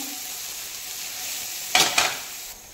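Boiled potatoes stirred and fried in a pan for dahi aloo, a continuous soft sizzle with two sharp scraping stirs of a spoon against the pan near the end.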